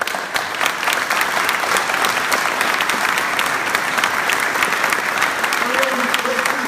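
A debate audience in Hutchinson applauds the panelists, loud sustained clapping from a large crowd filling the whole stretch, with a voice briefly audible near the end.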